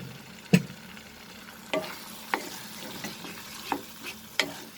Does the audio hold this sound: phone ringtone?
no